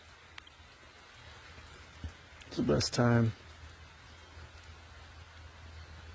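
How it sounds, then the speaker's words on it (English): Light jungle drizzle makes a soft, faint, continuous hiss of rain, with someone briefly speaking partway through. "It's like a nice little drizzle."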